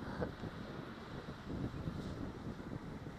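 Strong wind gusts buffet the microphone at a cargo terminal where kites are being flown, a rumbling, uneven roar close by with no talking.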